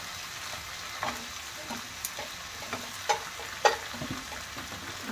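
Cashews are stirred into simmering shahi paneer gravy in a pan: a low, quiet sizzle with a handful of soft spoon scrapes and taps spaced a second or so apart.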